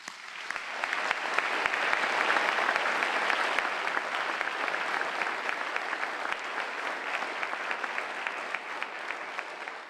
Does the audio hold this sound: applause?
yes